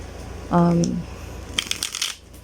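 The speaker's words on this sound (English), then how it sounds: "But I love shuffling these decks." A Tarot in Wonderland card deck by Barbara Moore is shuffled by hand, a brisk close riffle of cards after a short spoken word.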